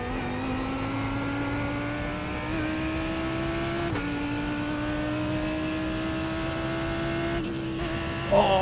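GT3 race car in the iRacing sim at Sebring, engine revving high and steady with rising pitch through gears, a brief dip at each upshift, loud and continuous throughout.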